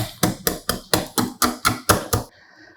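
Sharp chipping strikes break ice away from a frozen Nokia XR20 smartphone, about nine close, loud blows in a steady rhythm before the sound stops.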